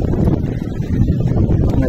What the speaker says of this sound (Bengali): দাঁড়ানো যাচ্ছে না, এত পরিমাণ হাওয়া চলছে, হাত পা সব ঠান্ডা হয়ে যাচ্ছে।